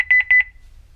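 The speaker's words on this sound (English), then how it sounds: "And then it beeps 3 times, and that just means that it's done." Honeywell Lynx Touch L7000 alarm system panel giving a quick run of short, loud, clear electronic beeps in even rhythm, close by, with no talking.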